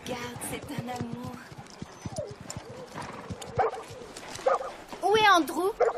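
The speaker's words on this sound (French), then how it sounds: "Andrew, c'est un chien." A dog barks and yips several times in an animated horse-riding series, with quick sharp barks and whimpers mixed under busy talk and hoof-like clatter.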